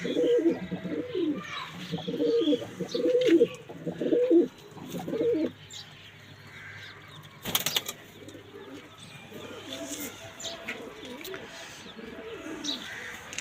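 Pigeons kept in a loft coo in repeated low, throaty phrases, close and clear at first, then softer later, with a brief rustle partway through.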